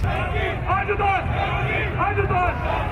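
Crowd lined along the streets of Fremont at an India Independence Day parade, shouting and cheering on a hot day; a steady babble of excited voices with raised calls, fairly close.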